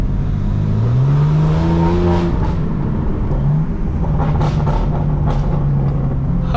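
Straight-piped BMW M4 Competition exhaust roaring loudly and continuously on a canyon road, with rising and falling revs and engine drone, no talking.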